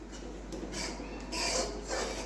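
Besan (gram flour) being stirred in a hot kadai for barfi, soft scraping and rubbing strokes in a loose, uneven rhythm, quiet and close with no talk.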